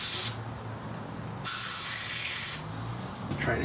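Cleaner sprayed from an aerosol can into the intake boot of a Polaris Sportsman 700cc ATV engine comes in two hissing bursts: a short one, then a steadier one lasting about a second. No one talks.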